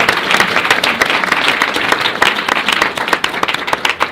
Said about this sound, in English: So huge applause,